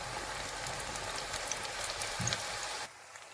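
Chebakia pastries frying in hot oil, a close, dense, steady crackling sizzle with scattered pops that cuts off abruptly near the end, with no voices.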